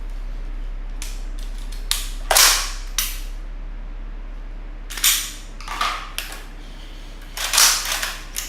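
Gunshots ring out during rifle-to-pistol transition practice: sharp, loud cracks in quick clusters of two to four, separated by short pauses, with no talking.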